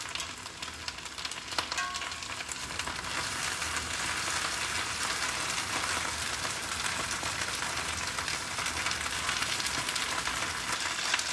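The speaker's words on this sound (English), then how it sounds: "Some of my old bacon grease and sausage grease, I'm going to add some of that to the pan to help fry it" Potatoes fry in a pan with added bacon and sausage grease, making a steady, close, crackling sizzle that holds evenly throughout with no talking.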